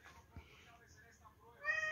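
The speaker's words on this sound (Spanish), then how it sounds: "el gatito siempre pidiendo de comer" A cat meows for food, the calls drawn out and fairly soft, rising at the end, in a quiet room at night with a hint of voice in the background.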